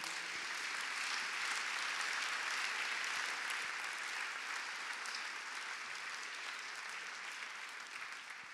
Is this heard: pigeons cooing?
no